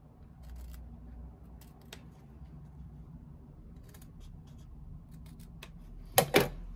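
Scissors snip through fabric close to sewn stitching at the corners of a rectangle, a quiet, sparse cutting with a couple of sharper snips near the end.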